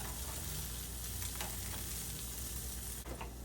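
Tex-Mex breakfast food fries on one side in a pan with a steady, soft sizzle that holds evenly throughout.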